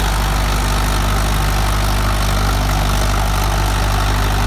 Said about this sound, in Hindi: रूटावेटर जो है फुल लिफ्ट डाउन है भाई, धड़क के साथ चल रही है।